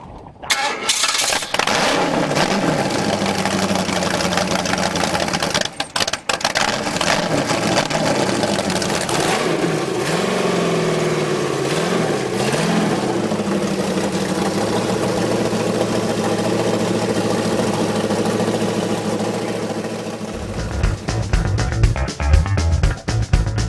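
A restored engine with a freshly done head and a brand new complete bottom end runs at a swap meet. It sounds loud and close, with a steady idle and a few brief revs partway through and again near the end.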